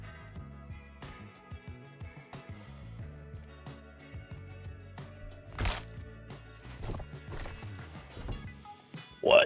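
Video game horse sounds: scattered hoof clops and a neigh over quiet game audio, with a sharper burst near the end.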